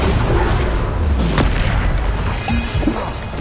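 Bombarda blasting spell explosions in Hogwarts Legacy on PS5, a dense run of booming blasts and crashes amid continuous combat noise, loud and close with no talk.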